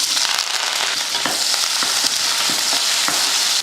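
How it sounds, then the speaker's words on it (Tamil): Mustard seeds, urad dal, onion and curry leaves sizzling in hot oil, a dense, even crackling fry with small pops, close and loud, no voices. "எண்ணெய் காஞ்சதுமே கொஞ்சம் கடுகு உளுந்து, கூடவே ஒரு வெங்காயமும் கொஞ்சம் கருவேப்பிலை."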